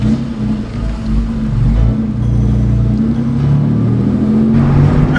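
A V6 Mustang with a homemade dual exhaust revs up, its loud, raspy engine drone rising steadily in pitch and holding steady and close, with no talk.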